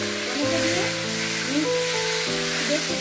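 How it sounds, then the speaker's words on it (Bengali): Chopped tomatoes go into hot oil with sizzling tempering spices for a sweet-sour tomato pickle, giving a steady, fairly loud frying hiss with faint stirring and no talk. "এবার এই সময় আমি দিয়ে দেব কেটে রাখা টমেটো।"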